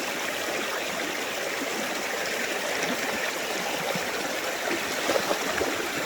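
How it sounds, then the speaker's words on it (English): A creek at a dispersed campsite flows in a steady, close rush and babble of water, continuous and even throughout with no one talking. "Back in the creek."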